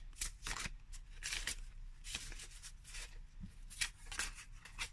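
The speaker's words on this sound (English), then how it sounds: "let us go and do a few shuffles to see how it goes. So, this is overhand." A Baroque Tarot card deck is shuffled overhand in a quiet room, giving a series of soft, crisp riffling and slapping bursts at an uneven rhythm.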